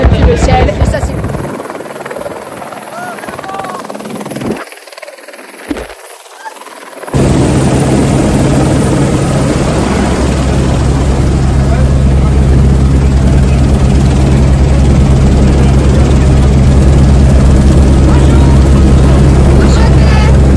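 A helicopter flying over the Le Mans 24 Hours circuit during a motorcycle endurance race, rotor and turbine roaring loud and steady from inside the cabin, with quieter muffled sounds before the full engine noise cuts in.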